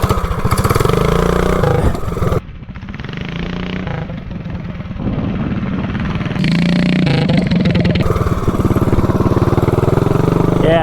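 A big block 420 drag car with a 30 series torque converter launches into a wheelie, a loud, harsh engine roar that briefly drops, then builds again into a sustained, rising blare.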